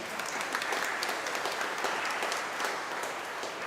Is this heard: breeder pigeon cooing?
no